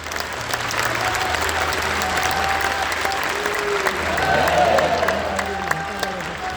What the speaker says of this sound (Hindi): जोरदार करतल ध्वनि से माननीय प्रधानमंत्री जी का अभिनंदन